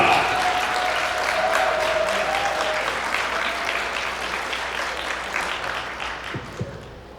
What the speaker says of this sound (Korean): 박수 크게 부탁드리겠습니다.